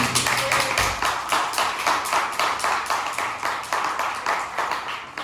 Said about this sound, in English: right now we got applause